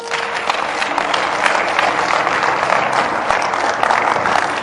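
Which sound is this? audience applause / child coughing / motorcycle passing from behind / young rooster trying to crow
audience applause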